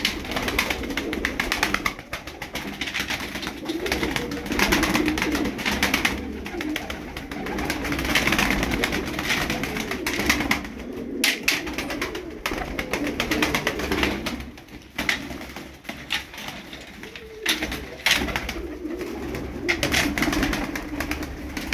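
Tumbler pigeons cooing steadily and close by through the whole stretch, low soft calls overlapping with faint flutters and a little background noise.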